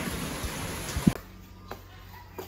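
Rain patters steadily on surfaces in a rural provincial setting, then abruptly thins to sparse, faint drips after a sudden cut, with a few isolated drops later.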